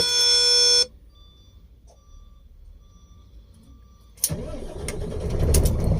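A steady electronic warning tone cuts off, followed by quiet; then a car engine, after contact cleaning of its drive position relay, cranks and fires up, settling into a rough running rumble.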